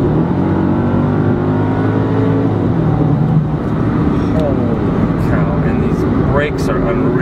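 A supercharged Mercedes-Benz E55 AMG with 469 horsepower accelerates hard, its engine note climbing steadily in pitch from inside the cabin, loud and continuous, with a voice talking over it.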